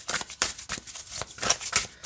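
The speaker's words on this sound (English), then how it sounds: "Shuffles this way great too." A herbal astrology oracle card deck being shuffled, a quick run of crisp riffling bursts about every quarter second, close and clear with no talking.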